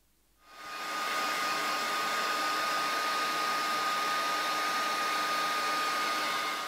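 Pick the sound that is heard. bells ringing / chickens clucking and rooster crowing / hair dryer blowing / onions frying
hair dryer blowing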